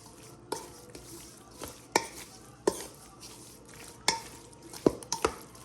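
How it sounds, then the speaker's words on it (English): Seasoning mixed into raw food in a bowl before frying, for a homemade Chipotle-style meal; irregular close-up scrapes and knocks of the utensil, a dozen or so uneven strokes over a quiet background. "I'm gonna mix this up and then fry it up"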